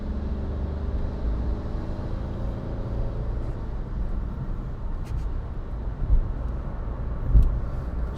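A 2016 Skoda Fabia 1.4 TDI Monte Carlo diesel heard from inside while driving at speed, a steady low buzzy engine drone with road rumble, continuous and fairly loud.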